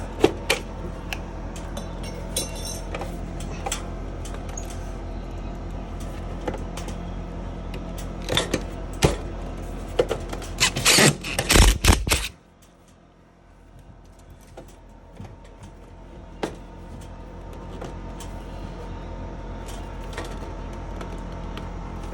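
Metal snips cut through the thin aluminum flap of an eavestrough corner drop, a run of close sharp clipping and crinkling metal that builds to a burst of hard snips before dropping to faint handling sounds.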